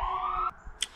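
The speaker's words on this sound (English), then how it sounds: "All right, that was a fire truck" A fire truck siren sounds loud and steady for about half a second, then cuts off abruptly, with a brief sharp click following. No voices.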